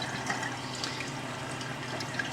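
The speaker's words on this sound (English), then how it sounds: "the dominant amount of water is going to be going out through the drain hose and not over the top" Water runs steadily through a photographic print washer and out its drain hose, a constant close rushing and trickling wash with no pauses or voices.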